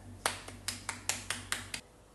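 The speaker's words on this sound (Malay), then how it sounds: "Beri tepukan untuk mereka." About eight sharp, crisp claps in a steady, quick rhythm ring out in a classroom for a student group, close and fairly quiet against a low background hum before stopping abruptly.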